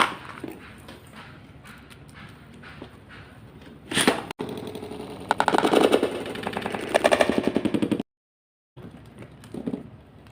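A Beyblade battle with the Hyperion Burn spinning top: whirring spin, then rapid, loud, machine-gun-like bursts of clashing and rattling, a sudden cutout near the end, then lighter rattling.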